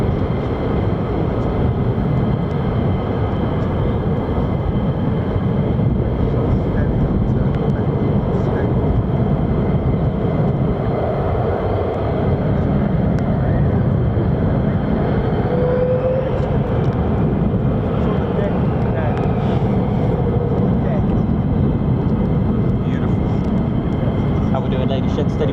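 F-15 and F-35 fighter jets of the US Air Force at RAF Lakenheath produce a continuous, distant jet roar that stays steady throughout, with faint background voices under it.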